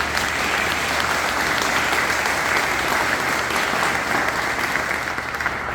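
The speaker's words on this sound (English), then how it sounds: "So when I say, yes, please, let's clap." Sustained audience clapping at a women's association conference in North County San Diego, a dense, even wash of many hands for about six seconds with no speech over it.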